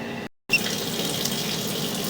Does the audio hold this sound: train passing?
no